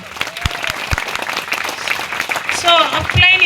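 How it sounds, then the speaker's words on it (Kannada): An audience bursts into loud, sustained clapping at a direct-selling company success-story event, a dense close crowd applause with a voice speaking over it. "ಎಲ್ಲ ಅಪ್ಲೈನ್ಸ್ಗಳಿಗೆ 1 ಸೆಕೆಂಡ್ ಜೋರಾದ ಚಪ್ಪಾಳೆ"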